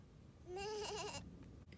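A person imitates a sheep's bleat for a sheep puppet, voicing one wavering, nasal "baa" of about a second, loud and close, followed by quiet.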